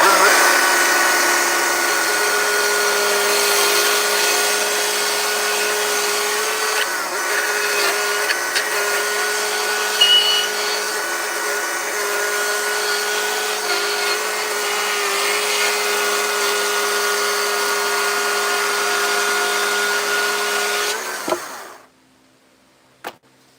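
A chainsaw trims wood on a carved dragon, running loud and steady at a constant high whine for about twenty seconds before cutting out, followed by a brief clunk.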